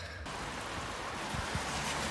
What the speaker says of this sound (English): It's raining, it's cold.